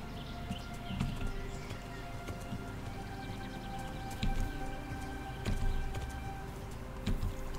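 A horse trots across open ground in the video game Kingdom Come: Deliverance, its hooves making a quiet, regular clip-clop over a soft, steady background.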